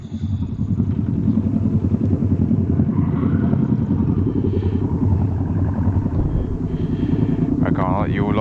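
A motorcycle rumbles at low speed into a bike night car park, its engine a loud close drone mixed with wind buffeting and a voice talking over it.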